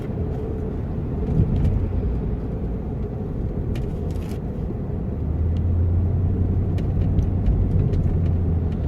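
A car rolls through light morning traffic, giving a steady, continuous road rumble and engine drone from inside the vehicle with no talk, holding even throughout.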